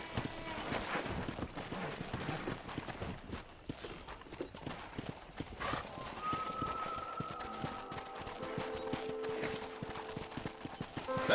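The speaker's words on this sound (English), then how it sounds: "Let's see if we can't wrangle some horses." Horses move about in Red Dead Redemption while being wrangled, giving scattered hoof clip-clops and rustling under outdoor ambience, with bird calls and a faint tonal sound later, all at moderate to low loudness.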